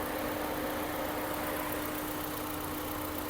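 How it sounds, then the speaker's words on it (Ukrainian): A Ford Fusion Plus car engine idles steadily with a smooth, even hum and no revving, nothing else standing out. "Двигун працює рівненько"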